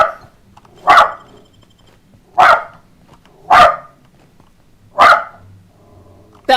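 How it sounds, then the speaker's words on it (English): A pet dog named Sevo barks four times at evenly spaced intervals, each a loud, sharp single bark close by, with quiet room tone between and no talking. "So, there's my dog going."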